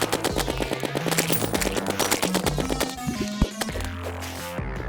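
Rapid bursts of snowball cannon fire in Terraria master mode during a King Slime fight, dense repeated shots and thumps layered over busy game music and effects.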